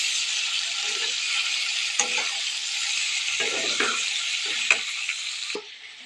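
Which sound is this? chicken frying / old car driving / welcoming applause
chicken frying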